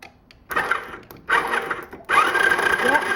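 A tiny quad's small engine is cranked over in three mechanical whirring bursts separated by short pauses, loud and close, with the last burst running longest.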